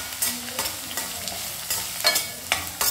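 Thick chillies and other vegetables frying in a pan, giving a loud steady sizzle broken by repeated sharp scraping strokes of stirring, close up and with no talk.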